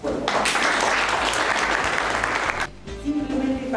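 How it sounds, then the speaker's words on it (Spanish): A crowd at an awards gathering for winning writers bursts into loud, dense applause for about two and a half seconds, then it thins into scattered claps as someone begins speaking. "quiero un gran, gran aplauso a Griseta Méndez"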